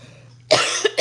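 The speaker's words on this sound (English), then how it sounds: "I coughed." A single cough, close and abrupt, followed by a shorter second burst, heard alone against a faint low hum.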